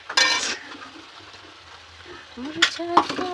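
Tomato chutney fries in oil as it is stirred, with scraping and clinking against the pan and a soft sizzle between the strokes, and brief voices near the start and end.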